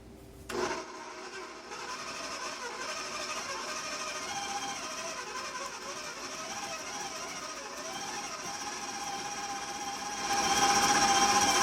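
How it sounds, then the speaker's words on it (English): Steady mechanical whir of a mixer beating six egg yolks with sugar for a Tarta de Santiago, running continuously at a constant pitch and growing a little louder and harsher toward the end, with no talk over it. "Here I have the 6 egg yolks and the sugar, and I am about to beat this until it's pale and smooth"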